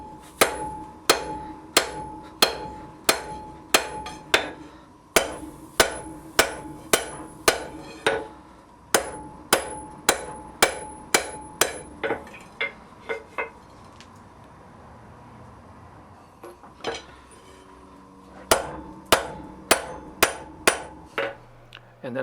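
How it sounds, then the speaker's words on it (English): Hammer blows on hot steel over an anvil while fullering blacksmith tongs, ringing strikes in steady bursts of a dozen or so, a pause with a few quieter taps, then another run of sharp, loud, metallic hits. "I use the corner of the anvil that has a really good radius to fuller the material in"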